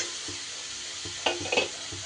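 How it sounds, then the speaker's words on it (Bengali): Fried potatoes, soybean chunks and spices stirred in a hot pan, a low sizzle under a few spaced scraping strokes and two louder clinks of the spoon near the end. "সয়াবিনটাও মশলার সাথে কষিয়ে নেবার পর এইবার আমি ভেজে রাখা আলু দিয়ে দিলাম"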